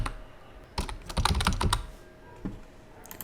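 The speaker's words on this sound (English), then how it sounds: "You can type a description." Keys clatter on a computer keyboard as a group description is typed, a quick close burst of keystrokes in the middle with a few isolated taps before and after, no talk.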